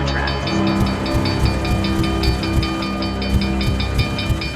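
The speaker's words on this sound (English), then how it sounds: "I could hear the train in the distance now, but I didn't care." Steady train effect in a radio play, a sustained hiss with clattering rhythm and held tonal whine that hold at an even level throughout.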